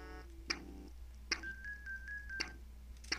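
Telephone dialing in the video game Earthbound: a short series of electronic keypad tones and beeps, with a sustained steady tone in the middle, clean and close, with no talking.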